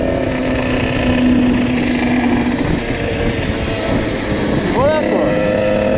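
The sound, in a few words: Sherco SMRS motorcycle riding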